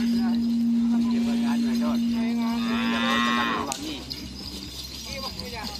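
A cow lets out a long, loud moo nearby, with other small cattle and people talking in the background at a karapan sapi bull-race training ground in Pamekasan.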